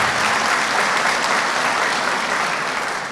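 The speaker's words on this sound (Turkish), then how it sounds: "Alkışlıyoruz efendim." An audience at a political party gathering breaks into sustained, dense applause, loud and steady throughout with no voices standing out.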